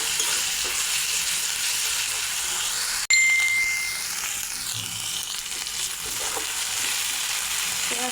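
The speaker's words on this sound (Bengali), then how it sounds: "পেঁয়াজটা ভাজা হয়ে গেছে" Finely ground onion paste fries in oil with cinnamon, cardamom, bay leaf and cumin, giving a steady close sizzle broken by a sharp clank of a utensil against the pan and scraping stir sounds.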